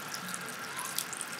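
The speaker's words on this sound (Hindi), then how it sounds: "और इस तरह से आपने इसके अंदर पानी डाल देना है" Water trickles and splashes steadily as it is poured into a plant pot tray filled with gravel, a soft continuous pour with faint drips, close by and alone.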